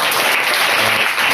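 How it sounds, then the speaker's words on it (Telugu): A church congregation claps together during a prayer service, producing a steady, dense wash of applause that fills the whole moment at close range without a break. "చప్పట్లు కొడుతూ"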